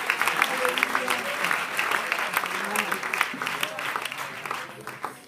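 A church congregation claps during a Spanish-language sermon by a missionary pastor, brisk uneven clapping with scattered voices and shouts mixed in, fading slightly toward the end.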